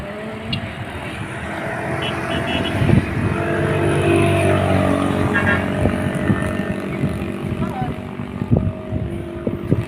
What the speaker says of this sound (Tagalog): Ito yung tricycle dito.